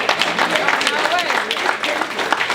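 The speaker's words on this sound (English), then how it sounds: "I think you need to give yourself a round of applause" Applause from a room of guests at a real estate mixer for someone who just signed her first contract, dense steady clapping with voices and cheers mixed in throughout.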